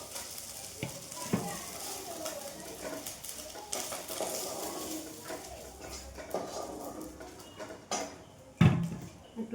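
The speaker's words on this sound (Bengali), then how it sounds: "মাছ ভাজা হয়ে যাচ্ছে" Fish coated in mustard paste frying in hot oil in a home kitchen pan, a steady close sizzle with scraping stirs and occasional utensil clatter, including a sharp knock near the end.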